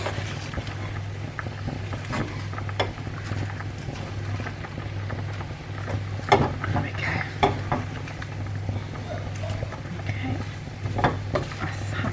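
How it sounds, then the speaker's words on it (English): Spinach being stirred in a pan as it wilts, with occasional soft scrapes and clinks of utensil on metal over a low steady hum, faint and close. "it's all about stirring it and just letting it wilt naturally"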